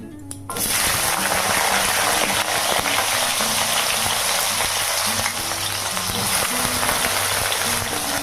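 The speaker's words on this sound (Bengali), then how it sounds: "আর এই দেখো একটুখানি উচ্ছে ভেজে নিচ্ছি পেঁয়াজ দিয়ে" Bitter gourd and onion hit hot oil in a pan and burst into a loud, dense, hissing sizzle that continues steadily and close, with no talk.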